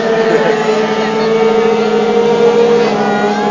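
A motorcycle engine revs hard and holds high while the tire smokes at a motorcycle and rally show in Ercsi, a loud continuous drone that rises and falls slightly.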